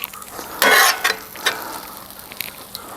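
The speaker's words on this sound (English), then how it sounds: "So I'm going to go ahead and start putting on some of the onions." Onions going onto a cooking steak for a Cuban beef steak sandwich, pan con bistec: a broad hiss of sizzling swells sharply for a moment, then a few short crackling bursts follow over a steady low frying noise.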